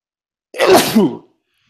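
A single close, sharp sneeze, a quick breathy burst lasting under a second, surrounded by silence.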